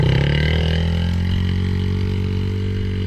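A small petrol dirt bike engine runs close by with light throttle, giving a steady buzzing drone that eases slightly lower over a few seconds.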